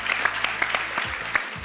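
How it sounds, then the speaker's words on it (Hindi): Audience applause at a live talk event: a sustained, even patter of many hands clapping at moderate loudness, with a low background hum and no speech. "बहुत सी तालियां बजाइए।"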